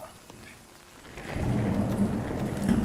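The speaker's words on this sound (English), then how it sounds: "and oh, hail now." Hail and thunderstorm in the video game Nightingale: quiet rain thickens after about a second into a dense, steady patter with a low rumbling underneath.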